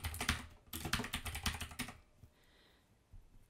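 Quick bursts of keystrokes clatter on a computer keyboard as a folder name is typed, close and crisp for about two seconds before stopping, followed by quiet room tone.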